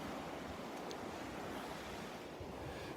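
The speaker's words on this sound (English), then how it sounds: "The surf has calmed down a little bit here" Gentle ocean surf on a beach at North Naples, Florida, a soft continuous wash of small waves with some wind noise on the microphone, faint and steady, with no voices.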